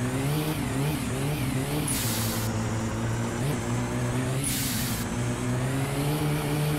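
A modded big-turbo car engine in a racing video game, running loud and continuous at high revs with pitch sweeping through gear changes and two sharp hissing bursts from the turbo.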